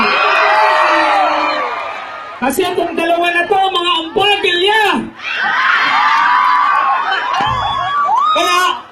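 A crowd shouts and cheers at a Bayambang event, loud throughout with whoops rising and falling, mixed under someone speaking in Filipino.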